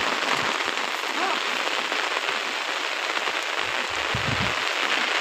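Steady, dense, record-breaking rain pattering on a surface, a constant hiss of drops with a few louder splashes, no break throughout.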